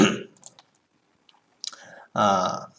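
A computer mouse clicks while a program is uninstalled on a PC: a couple of short dry clicks early on, followed by a brief pause and then a louder burst of sound near the end.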